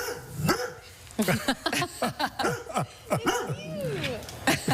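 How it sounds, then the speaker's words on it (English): A sheepadoodle dog in Kamoka, Ontario barks close by in a quick run of sharp, repeated yaps and woofs, with a few whiny yips mixed in and a voice faintly in the background. "This is Doug, an adorable sheepadoodle in Kamoka, Ontario, who jumps up and barks when he sees himself on CTV London"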